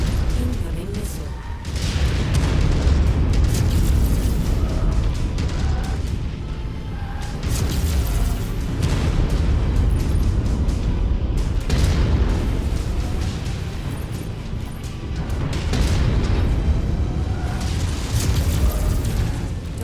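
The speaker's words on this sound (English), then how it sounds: "Incoming missile." Missiles explode in the video game Mechwarrior 5, with repeated heavy booms and rumbling blasts every few seconds, mixed under a steady backdrop of game noise and spoken voices.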